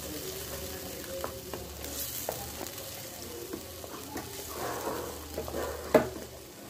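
Tomato bath gravy fries in a pan with a soft continuous sizzle, broken by stirring scrapes and light spoon knocks, ending in a sharper metallic clank; no voices.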